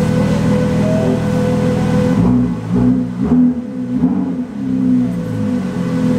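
A 2018 Ford GT launches off a two-step, its engine holding a loud, buzzing rev before breaking into rapid, choppy surges and shifts as it accelerates hard, close and dominant throughout.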